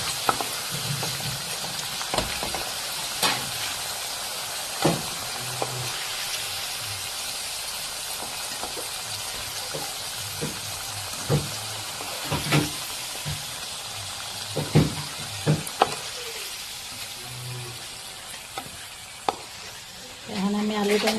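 Potatoes frying in hot oil with garam masala, a continuous soft sizzle and hiss with scattered pops and stirring clicks, a voice heard faintly in the background.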